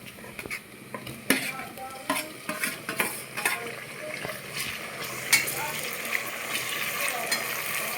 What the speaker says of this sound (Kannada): ಈಗೇನು ಮಾಡ್ತೀವಿ, ಟಮಾಟೆನ ಹಾಕೊತೀವಿ.